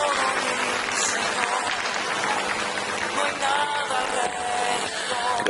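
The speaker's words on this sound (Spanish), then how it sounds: "Vamos a darle un fuerte aplauso a Jesús" A church congregation applauds in praise of Jesus, a dense, steady wash of many hands clapping that fills the whole stretch at strong, even loudness with a faint murmur of voices underneath.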